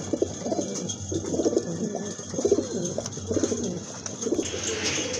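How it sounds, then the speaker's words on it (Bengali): Large pigeons for sale coo repeatedly and close by, their soft low rolling calls coming in regular bursts with faint rustling and no speech. "মাশাআল্লাহ আরেক জোড়া কবুতর, বিগ সাইজের কবুতর, কোয়ালিটিফুল কবুতর।"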